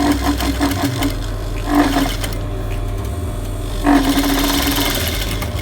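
A sewing machine stitches a waistband with a steady, close mechanical whir and rapid needle rhythm, pausing briefly twice before running on again.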